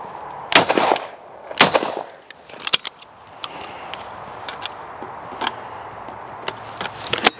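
Italian shotguns fired outdoors, two sharp loud blasts close together followed by fainter distant shots and clicks against quiet background.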